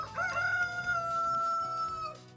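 Coco the rooster lets out a single drawn-out crow that is loud and near, rising at the start and holding steady before trailing off, with no voices.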